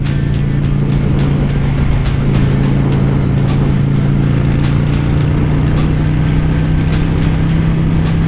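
A Honda Shadow motorcycle accelerates hard on an open road into fifth gear, its loud, steady engine drone rising in pitch and holding continuously under rushing wind noise, close and without pause.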